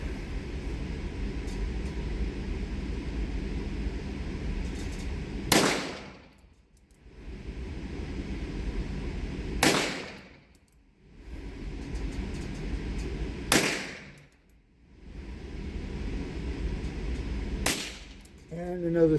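A Smith and Wesson revolver fires four squib loads, each a sharp loud crack at roughly four-second intervals with a brief ringing decay, against steady background rumble.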